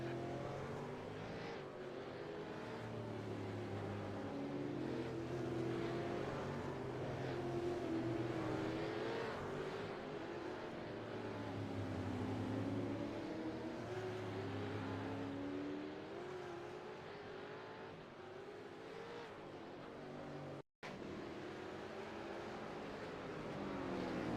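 Supercars V8 race cars at Sandown, engines droning steadily with rising and falling pitch as they sweep around the circuit at a distance, a continuous mid-level roar broken by one brief dropout.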